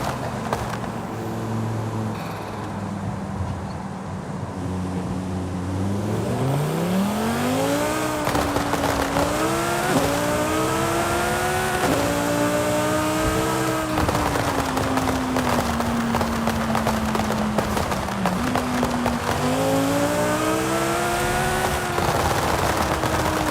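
A Lamborghini Huracan STO in Forza Horizon 5 revs and accelerates through several gear shifts, a loud rising engine whine with crackling exhaust pops over a steady background.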